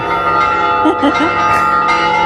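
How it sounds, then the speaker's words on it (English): Many church bells ring at once in a town centre, a dense, loud, clashing wash of overlapping peals and ringing tones with no clear pauses. "It's like a bell competition and who can be heard the loudest in the centre"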